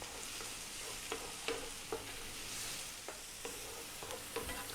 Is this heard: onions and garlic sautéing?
yes